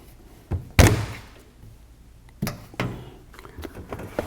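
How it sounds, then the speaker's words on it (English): The cabinet door of an AprilAire 1213 air filter unit is worked loose and pulled off, giving a few sharp plastic-and-metal thunks and knocks, one loud clunk near the start, then lighter taps and rattles. "let's take the door off."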